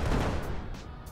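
A tank gun fires in the Brick Rigs video game, a T-34-85 tank battle: one loud, heavy booming blast at the start that rolls off into a fading rumble over about a second, with no talk.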